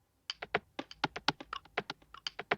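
Percussion loop from Ty Leon's drum kit: quick, dry tapping hits in a bouncy, slightly uneven pattern, close and clean with nothing else behind them.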